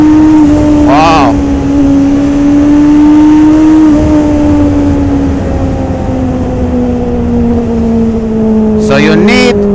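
A 2021 Honda CB650R motorcycle runs on a race track, its engine a loud, steady high drone that sinks gradually in pitch. Wind roars throughout, and short vocal bursts come near the start and the end.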